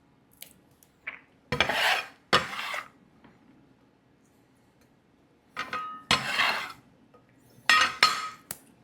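A knife dices vegetables such as celery, carrots and onions on a board, heard as sharp, rapid bursts of chopping in separate clusters, close and fairly loud between quiet pauses, with no talk.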